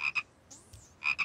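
A frog in a cartoon gives two pairs of bright, quick croaks close by, with a brief soft whooshing sound between them.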